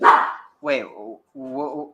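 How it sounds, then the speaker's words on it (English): Pet dog barking indoors: one sharp bark, then two lower, drawn-out whining barks with short gaps between, close to the microphone and fairly loud, with a voice speaking alongside. "Sorry about my dog."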